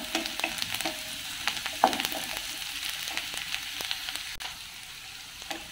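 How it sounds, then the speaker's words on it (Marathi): Chopped onion sautéing in a pan for masala rice made with leftover rice, a steady soft sizzle with scattered crackles and occasional stirring clinks, moderately close and without talk. "आता हा कांदा माझा परतून झाला आहे"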